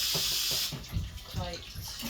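Strawberries are rinsed under a running kitchen tap, a loud, close gush of water that cuts off after a moment and gives way to softer splashing and handling.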